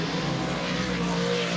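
Dirt track race cars of the Super DIRTcar Series at Volusia Speedway Park roar steadily as they take the green flag, a loud, continuous engine drone with no voices.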